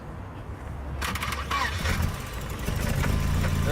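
An old car engine is started after a quiet moment: a sudden burst of cranking noise, then it catches and runs, growing louder toward the end, with brief speech mixed in.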